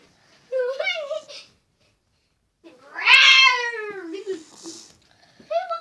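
A cat meows loudly and up close in two drawn-out, wavering calls, with a shorter cry at the end.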